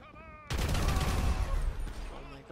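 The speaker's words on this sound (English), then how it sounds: "I have explosive bullets on, would it? I want a rapid fire explosive right now." Rapid-fire explosive bullets in GTA director mode: a loud, dense burst of overlapping gunshots and blasts starts suddenly and continues for about two seconds before fading, with a bit of game sound before it.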